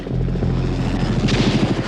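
A helicopter chases a dog running across white snow in a classic horror film, its loud, constant rotor roar filling the scene.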